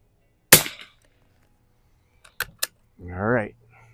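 A Mossberg 146BA rifle fires one sharp, close shot at 50-yard targets on an iron-sights range. Silence follows, then two quick metallic clicks and a brief spoken voice.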